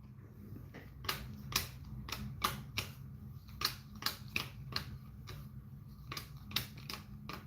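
Sharp, irregular clicks and snaps of cards being handled and shuffled, quiet and close, with a low hum underneath.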